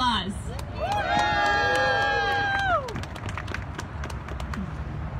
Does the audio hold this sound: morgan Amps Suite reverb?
no